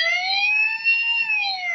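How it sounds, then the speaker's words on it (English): A Transformers Sentinel Prime toy fire engine plays its electronic siren, a loud, clean wailing tone that rises and falls smoothly, close and alone. "fire engine siren"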